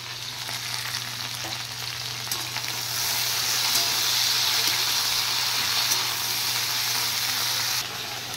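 Okra and potatoes frying in a pan with a spice mix, a steady close hiss and sizzle that swells louder for several seconds midway, with no voices.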